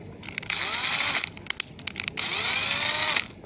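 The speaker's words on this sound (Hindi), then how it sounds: "तो ये ड्रिल है कुछ ऐसी।" A small electric drill, bought for around 1250 rupees, whines at high RPM in two long sustained bursts, with sharp switch clicks between them as the direction is changed; it is close and loud with no talking.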